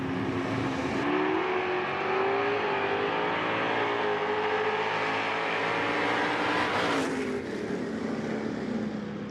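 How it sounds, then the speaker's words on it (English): A 1967 Camaro and a 1971 Vega with a small-block Chevy engine charge down a drag strip side by side, loud sustained engine roar with rising pitch, then a surge as they pass and pull away. "67 Camaro to the left, 71 Vega with a small block Chevy in the right lane"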